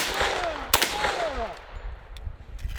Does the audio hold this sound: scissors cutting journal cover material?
no